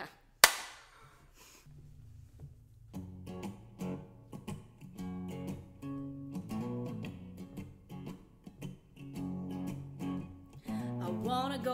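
A single sharp hand clap marks the start of a take for a science song about gravity, standing alone over near-silence before a bluesy band with singing comes in.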